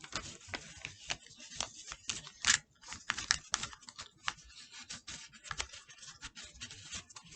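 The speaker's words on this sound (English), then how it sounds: "roll it up like a little cylinder, sheet of paper" A sheet of paper rolled up tightly by hand into a small cylinder for a kids' arts and crafts project, giving a steady run of close, dry crinkling and scratchy rustles with a few sharper crackles.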